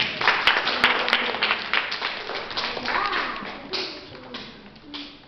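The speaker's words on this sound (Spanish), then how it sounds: "Un aplauso." Classroom applause from a group of students, a dense patter of many hands clapping that starts at once, holds steady and fades slightly toward the end.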